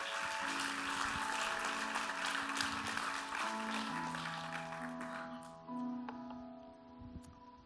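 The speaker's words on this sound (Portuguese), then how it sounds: "Dê um aplauso bem forte a Deus." A church congregation claps vigorously in dense, continuous applause that fades away after several seconds, leaving sustained musical tones and a few scattered claps.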